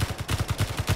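Rapid gunfire in the video game Space Engineers, a fast even rattle of about a dozen close shots in one burst, with no talking.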